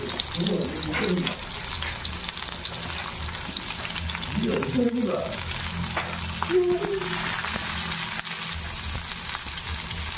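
A large onion fries in hot oil in a pan, a steady close sizzle and crackle running throughout, with faint voices in places.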